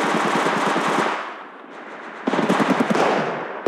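Rapid automatic gunfire in Apex Legends Mobile, a loud sustained burst of dense shots that fades briefly, then resumes with another close, fast-rattling volley.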